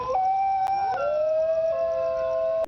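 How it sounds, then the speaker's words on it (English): New Guinea singing dogs howl together in a sustained, gliding chorus of wavering tones that overlap and hold steadily loud throughout. "And then we have the New Guinea singing dogs."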